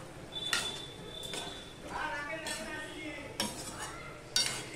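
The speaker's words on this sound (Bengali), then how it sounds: "এবার এটা সম্পূর্ণটা নেড়ে চেড়ে মিশিয়ে দেব।" Ash gourd shoot and leaf curry being stirred in a pan, close spoon clinks and scrapes against the metal in a few separate strokes over a faint simmer.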